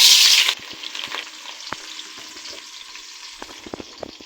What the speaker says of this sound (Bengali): প্রথমে আমি দিয়ে দিব কয়েকটা শুকনা মরিচ আর দুইটা তেজপাতা তারপর দিলাম পেঁয়াজ